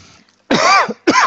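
A cough followed by a short throat-clearing burst, close and loud, two distinct rough bursts separated by a brief pause in a quiet room.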